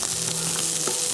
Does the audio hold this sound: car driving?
no